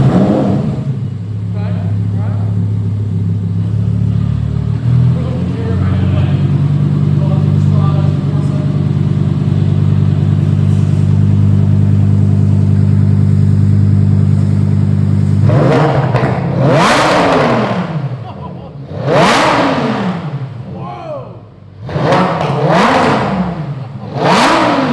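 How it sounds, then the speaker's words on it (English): A Lamborghini Huracan EVO V10 with a Fabspeed Motorsport exhaust and X-pipe drones steadily at idle, then lets out four sharp, high-pitched revs in quick succession, loud and close. "it hits this X pipe and it gives you that super high pitch sound"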